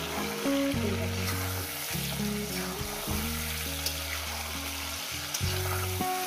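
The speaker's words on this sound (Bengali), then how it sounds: "মাংসটা একটু ভেজে রান্না করবো, প্রায় 5-6 মিনিট আমি ভেজে নেব।" Chicken meat for chicken kosha fries in a pan, a bright continuous sizzle and hiss sitting under prominent background music, steady and fairly loud throughout with no speech.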